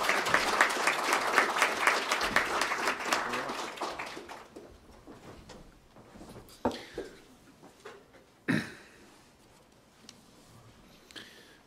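Audience applause at a Brookings event welcoming Norway's Minister of Energy: dense clapping for about four seconds that thins into a few scattered claps and isolated knocks in a quiet hall.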